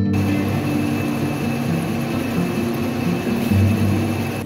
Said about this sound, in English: I've moved it back to machining the mains.